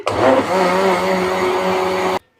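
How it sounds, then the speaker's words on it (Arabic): A blender whirs loudly and steadily for about two seconds while blending Nutella, its motor pitch settling after a brief surge, then cuts off abruptly. "اضرب الخلاط"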